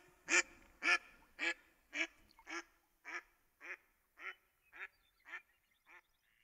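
Duck quacking in a regular series of about twelve evenly spaced nasal quacks, close and clear, gradually softening toward the end, with nothing else heard.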